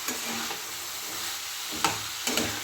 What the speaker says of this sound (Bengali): ভালো করে ভেজে নেবো পেঁয়াজ কলিগুলো।